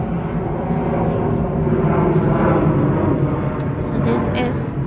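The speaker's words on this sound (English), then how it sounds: "Another plane." A propeller or jet plane passes overhead above a backyard edible garden with citrus and fennel, a steady broad rumble holding throughout, a person talking over it.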